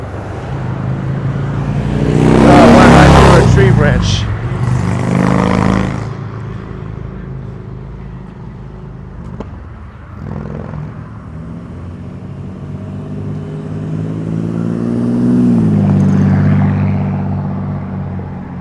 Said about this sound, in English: just waiting for the traffic to pass through